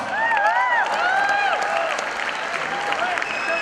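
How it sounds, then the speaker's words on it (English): An audience breaks into applause with some cheering at a lively event, a continuous crowd wash of clapping heard under a singing or whistling voice that rides over the top. "Ladies and gentlemen, a huge round of applause."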